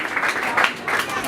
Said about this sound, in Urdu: آئے زوردار تالیاں بجائیں